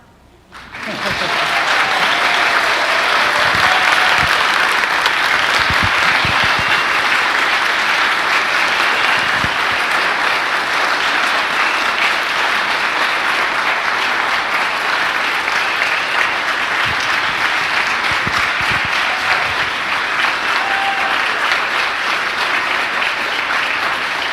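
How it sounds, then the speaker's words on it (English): A church congregation claps together at a Flower Communion service honoring seniors, loud sustained applause starting abruptly and continuing evenly for over twenty seconds, with faint voices and a few whoops mixed in. "So now we clap."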